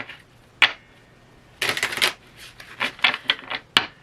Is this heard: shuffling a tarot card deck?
yes